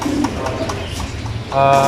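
Pigeons coo softly nearby in low, rounded calls, with voices talking over and around them.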